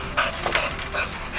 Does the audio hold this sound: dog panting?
yes